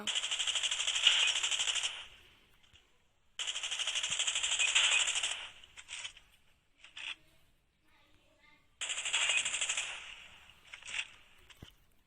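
Video game weapon fire in three bursts, each a sustained rapid rattle about two seconds long, separated by quieter gaps with scattered clicks.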